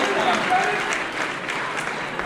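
Crowd at the NASKA Diamond Nationals 2022 night show cheers and applauds after a martial arts performance, a dense, loud wash of clapping and whoops sustained throughout, with an announcer's voice over it.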